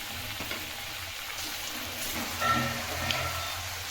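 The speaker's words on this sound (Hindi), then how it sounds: "अब हमने जो कोफ्ता को गोल गोल बनाए हैं उसे डालेंगे" Round jackfruit kofta balls frying in hot oil, a moderate, close sizzle with soft bubbling and a brief louder burst in the middle, steady throughout.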